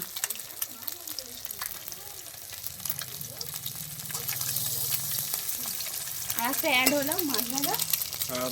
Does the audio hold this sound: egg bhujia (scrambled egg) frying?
yes